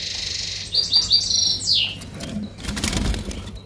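Caged goldfinches at a bird breeder's in Morocco give a quick series of bright, high chirps and trills, close and clear, followed by a short burst of rustling or fluttering noise.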